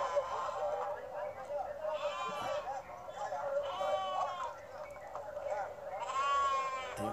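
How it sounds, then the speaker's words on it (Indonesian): Sheep at a livestock market for slaughter animals bleat repeatedly, several overlapping calls at moderate distance, while a person talks over them. "Nah, itu dia, banyak domba-domba ini"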